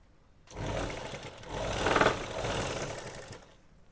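A sewing machine stitching a seam on gents' shorts, running in one continuous burst of about three seconds with a rapid mechanical whir that swells slightly in the middle, close and fairly quiet, no voices.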